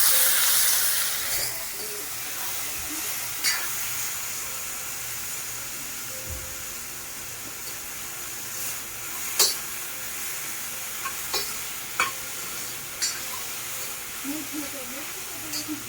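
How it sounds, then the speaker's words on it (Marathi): Green bean pods stir-fried in a pan give a steady hiss and sizzle, broken by sharp clicks and scrapes from stirring. "आता टाकूया हे शेंगा थोडं वापरून घेतात"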